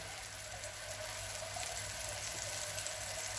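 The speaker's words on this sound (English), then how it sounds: "I create an emulsion right now with the water and butter" Water runs steadily into a pan of melted butter to form an emulsion for tagliatelle al tartufo, giving a continuous, even hiss and trickle with no talk.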